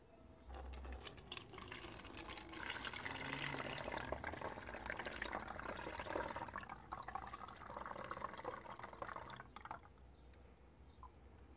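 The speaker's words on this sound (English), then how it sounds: "I'll pour in my water first" Water splashes and gurgles steadily for several seconds as it is poured into a bottle, fairly close, then eases off near the end.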